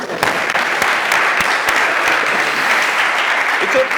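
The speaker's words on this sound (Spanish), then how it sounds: "Muy bien, aplauso, vamos bien." An audience claps at a public-speaking conference, a brisk wash of applause from a room of people with a few sharper individual claps, steady throughout, with some faint voices mixed in.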